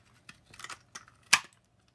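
Scissors snip through craft paper for a punch flower, a few short crisp cuts ending in one louder close snip, alone in a quiet room.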